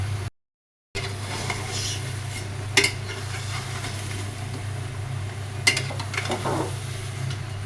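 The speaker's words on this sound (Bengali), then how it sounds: "তো মাছটা একটু কষিয়ে নিলাম, এবার দিয়ে দিলাম সবজি, দুন্দুল, বেগুন, আলু।" Fish head stir-fried in a pan with vegetables (dundul gourd, eggplant, potato): steady low frying hiss throughout, with a couple of sharp utensil scrapes and clinks against the pan, no talking.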